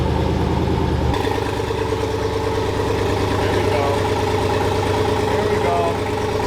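A Dodge Demon engine catches and settles into a loud, throaty idle that rumbles steadily without revving.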